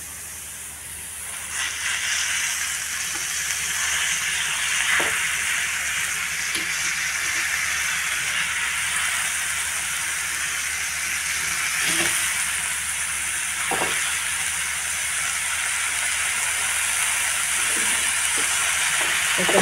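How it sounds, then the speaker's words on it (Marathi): Washed, chopped red amaranth greens sizzle and fry in a pan with onion and garlic, a steady close hiss lasting throughout, with occasional light stirring clicks and no talk. "आता धुवून घेतलेली कापून घेतलेली भाजी टाकते."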